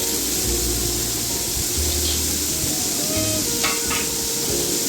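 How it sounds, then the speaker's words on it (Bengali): Flattened rice pulao with capsicum being stirred in a pan, a steady frying sizzle with soft scraping strokes of a spoon running throughout, close and fairly loud, with no voices. "এটা একটু ভালো করে নাড়িয়ে নেব।"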